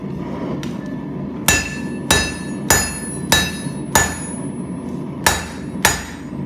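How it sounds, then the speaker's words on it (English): Heavy hammer blows forging the steel tip of a kitchen knife, seven sharp ringing metallic strikes at irregular intervals over a low background rumble, loud and close with no talking. "I'm going to try to do as much as I can with the hammer so I don't have to grind too much."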